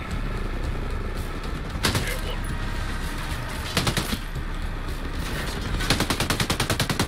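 Gunfire in a Rainbow Six match: sharp single shots and short bursts crack over a constant dense background rumble, ending in a rapid automatic volley near the end.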